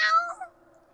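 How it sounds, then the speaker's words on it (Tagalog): A cat meows just outside a door, one short wavering cry that is loud at first and then fades quickly into a quiet tail. "Pusa sa labas ng pinto!"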